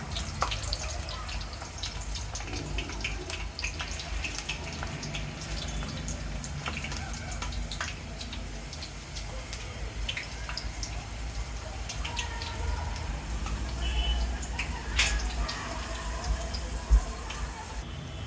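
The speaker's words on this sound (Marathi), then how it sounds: "मी पालकची पाने बॅटरमध्ये बुडवून तळून घेणार आहे" Spinach leaves dipped in batter sizzle and crackle steadily in hot frying oil for palak bhajji, a continuous fine hiss with scattered pops, close and moderately loud, with no one speaking.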